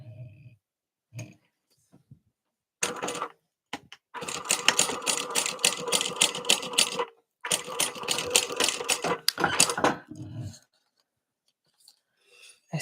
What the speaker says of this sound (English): I'll go down to my normal stitch length for sewing